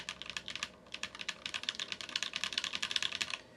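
Mechanical keyboard with a brass plate and Tecsee Ice Candy switches on a Sneakbox Design AVA build, typed on in quick, uneven bursts of crisp clacks, close up and moderately quiet, with no voices.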